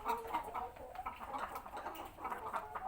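Laying hens that have stopped laying cluck softly and continuously in a farm setting, with low murmuring calls that rise and fall throughout and no talking.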